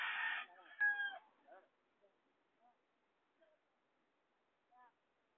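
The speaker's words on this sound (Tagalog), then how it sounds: "Ito yung manok na pinapakain ko." Chickens give short, faint clucks and chirps at scattered intervals after a louder opening call, quiet and sparse against near silence.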